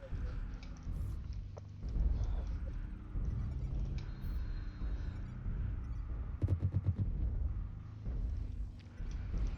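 Weapons fire in MechWarrior Online during a Thunderbolt 5SS match against a Stormcrow: a dense, rumbling game mix with repeated blasts and a rapid stuttering burst near the end, no talking over it.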